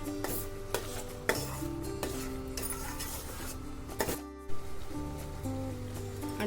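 Carrot halwa stirred with a large spoon in a pan, a steady scraping and clinking stir with a few sharp knocks, close and fairly quiet.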